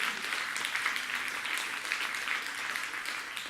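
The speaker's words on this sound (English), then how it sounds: "You can clap if you want to" Audience clapping at a talk on using racist memorabilia to teach tolerance, a dense, steady patter of many hands sustained throughout at moderate loudness, with no voices over it.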